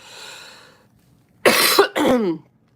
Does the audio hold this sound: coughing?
yes